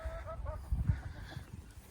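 Chickens clucking in short bursts near the microphone as they are handed treats such as dog food, with some low rustling and pecking sounds underneath.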